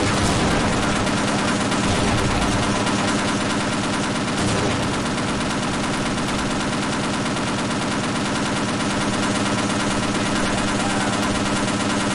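Relentless machine gun fire with live rounds in the game Half-Life: Opposing Force, a loud, continuous rattling barrage that runs unbroken throughout.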